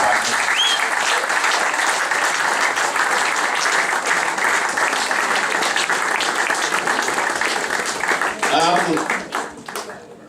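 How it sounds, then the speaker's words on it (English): Loud, sustained applause fills a hall at a football club awards night, dense clapping from a large crowd that holds steady, then thins and fades out near the end as a few voices emerge. "So could you all give a big round of applause to Mr. Mackay?"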